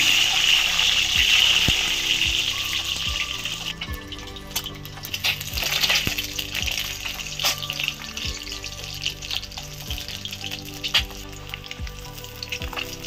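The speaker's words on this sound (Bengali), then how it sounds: "এবার আমি তেল দিয়ে দিচ্ছি, তেলটা গরম হয়ে গেছে। আমি ডিমগুলো দিয়ে দিচ্ছি।" Eggs frying in hot oil in a home kitchen, a loud continuous sizzle and crackle that holds throughout, with occasional light ticks and taps and no talking.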